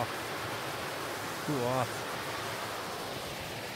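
A waterfall along the Superior Hiking Trail in Minnesota's Gooseberry Falls area gives a steady, broad rush of falling water throughout, with a short spoken phrase rising briefly above it.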